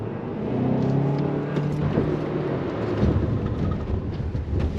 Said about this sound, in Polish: Dobra, i teraz gaz, gaz, gaz, gaz, gaz.